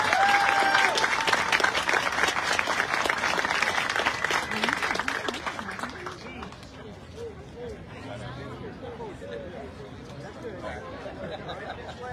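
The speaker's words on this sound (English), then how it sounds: "please give a big round of applause" A crowd at a neighborhood awards ceremony applauds loudly for several seconds, then the clapping fades into scattered claps and murmuring chatter.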